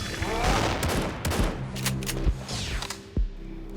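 Gunfire from sniping in a video game, several shots and impacts in a busy stretch of game sound with a voice talking underneath.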